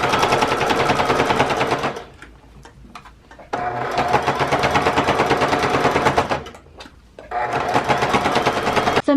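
A sewing machine stitches fabric around a curve on a handmade bowl cozy, running in loud, rapid mechanical bursts of several seconds each, broken by brief pauses with small clicks as the fabric is turned.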